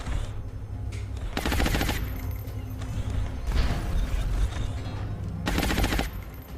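Marauder heavy weapon firing in the XCOM Long War strategy game, sounding as several loud bursts of rapid gunfire separated by short lulls over a steady low background rumble.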